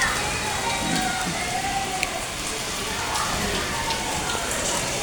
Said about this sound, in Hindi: ये देखिए बहुत तेज़ बारिश हो रही है।